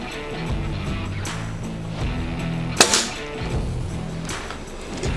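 Single sharp crack of a Daystate Red Wolf HP air rifle firing at a playing card set up downrange, one loud close shot with a brief tail, otherwise quiet.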